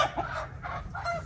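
Chickens on a walking trail at Hickory Knob State Park, South Carolina, clucking in a few short close bursts, fairly loud with brief pauses between calls.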